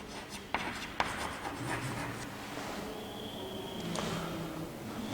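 Marker or chalk strokes on a classroom board during a chemistry lesson on atomic structure, a few sharp taps followed by steady scratchy rubbing, close and fairly loud with no talk.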